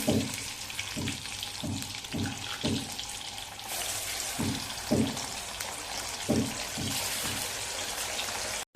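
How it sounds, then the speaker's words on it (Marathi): Paneer frying in hot oil for a dhaba-style veg dum biryani gives a steady, moderate sizzle, with soft rhythmic clinks and stirring knocks spaced through it. "हे बघा पनीर सुद्धा लालसर छान सोनेरी रंगावरती तळलेलं आहे"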